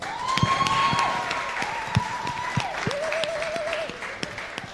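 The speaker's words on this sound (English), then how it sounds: "can you give them another round of applause?" Audience at a university student union election debate applauding the candidates, steady moderate clapping throughout while a sustained electronic tone or feedback hum runs underneath.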